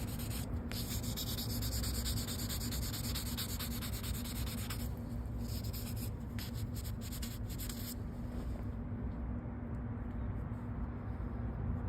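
A dented Kawasaki ZX6R motorcycle fairing being hand-sanded at the repair area, a close, continuous rhythmic scratchy rubbing in quick back-and-forth strokes over a steady low background hum, no talking.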